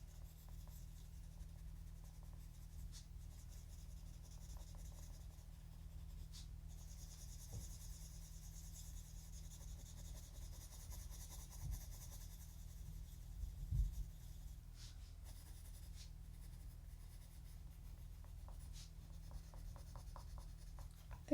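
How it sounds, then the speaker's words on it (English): Colored pencil in light aqua shading an area on paper in a Halloween coloring book, a soft continuous scratchy rubbing that runs steadily throughout, close and quiet, over a low background hum. "just kind of coloring it in a little bit more opaque with the light aqua"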